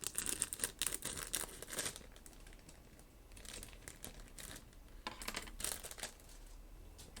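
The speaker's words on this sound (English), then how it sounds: "I'm going to go ahead and just open up all of these. It doesn't make much sense to have them all in plastic bags." Thin plastic bags holding Gundam Astray Red Frame Perfect Grade model kit parts crinkle and tear open in bursts of close, dry rustling, with quieter pauses between.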